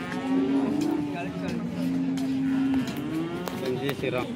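A cow moos close by in long, drawn-out calls at the Sangola cattle market, over a noisy outdoor background with voices faintly audible around it.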